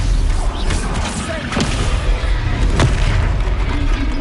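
A Confringo explosion spell goes off in the Hogwarts Legacy video game, heard as a loud booming blast over a dense, rumbling magical backdrop, with a couple of sharper bursts.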